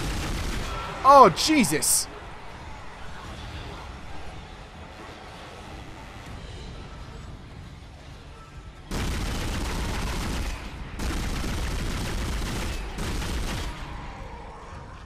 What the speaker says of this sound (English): Let's try the new gun out.